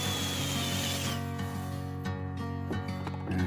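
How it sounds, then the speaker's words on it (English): A power drill bores a hole into a wooden barn door jamb, a steady whirring motor drone that drops in pitch partway through as the bit loads up in the wood, close and continuous with no talking. "Let's get it centered, and then now I can drill it."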